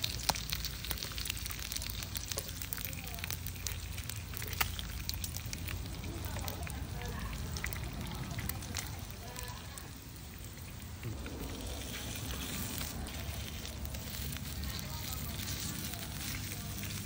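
Thai pork barbecue hotpot sizzling on the pan, a steady, quiet hiss and crackle like light rain that runs throughout, with talk faintly in the background.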